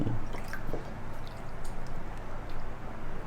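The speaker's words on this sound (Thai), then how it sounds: "ทีนี้ตัวถาดใหญ่เนี่ย เราใส่น้ำสต๊อก สักประมาณ3ทัพพี" Stock for Teochew chai tow kway ladled into a large tray, soft wet splashing and dripping with a quiet squishy pour, close and fairly faint, no talking.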